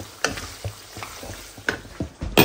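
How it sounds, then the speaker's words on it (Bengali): Kidney and liver frying slowly over low heat, with a soft sizzle under repeated close scrapes and taps of a spatula against the pan, irregular and moderately loud. "জালটা একদমই আস্তে দিব, দিয়ে সুন্দর মতন অনেক সময় ধরে ভাজবো"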